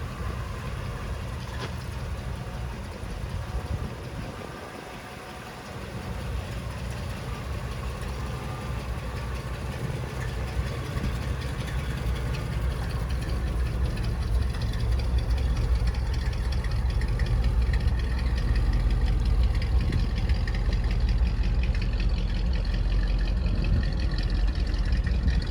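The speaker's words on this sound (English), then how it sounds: "Gotta love the sound of that exhaust." A 1963 Chevrolet Bel Air with a 327 V8 idling through its exhaust, a steady deep rumble heard close and loud, holding evenly and swelling slightly over the second half with no talking.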